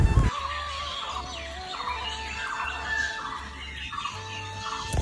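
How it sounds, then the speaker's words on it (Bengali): Morning birds chirp outdoors in repeated, fairly close calls, layered over a regular pattern of low thumping pulses. "এরকম সকাল সকাল পাখির কিচিরমিচির আওয়াজ কার না ভালো লাগে"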